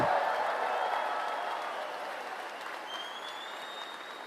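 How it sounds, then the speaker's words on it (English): A rally crowd applauds with dense, steady clapping that starts strong and gradually fades, with no voices standing out. "Give her a round of applause."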